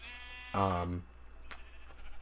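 Single loud sheep bleat from Minecraft, a harmonic wavering call about half a second long, followed by a faint click-like game sound in a quiet blocky underground setting.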